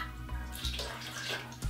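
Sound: water being poured into gelli snow powder

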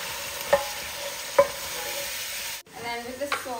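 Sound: stirring chicken pasta sauce with spices in a pan

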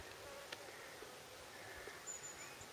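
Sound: honeybees buzzing at apiary hive

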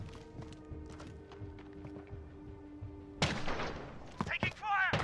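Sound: gunfire in video game Modern Warfare

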